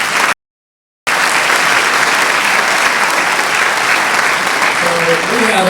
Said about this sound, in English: Round of applause for the piano player.